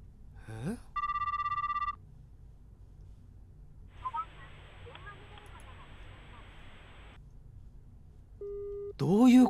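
A phone call in a horror video game fails to connect, giving a steady tonal beep, a long stretch of hissing line noise, then a short low tone before a sharp rising burst.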